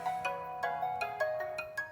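Mobile phone ringtone playing a bright repeating electronic melody of short tonal notes in a quick, regular pattern, clear and alone.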